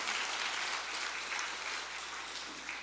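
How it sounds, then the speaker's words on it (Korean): A Korean church congregation at a Sunday service gives blessing applause after a prayer, a quiet but continuous wash of many hands clapping from across the sanctuary. "축복의 박수 해주시기 바랍니다"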